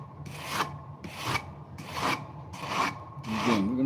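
A dull kitchen knife is drawn across a heavy grit sharpening stone in five rhythmic, evenly spaced rasping strokes, close and clear with brief pauses between.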